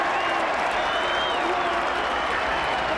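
A rugby crowd at a 1983 Newbridge versus Japan match cheers and applauds after a try, forming a steady, dense roar of clapping and voices that holds at an even level throughout.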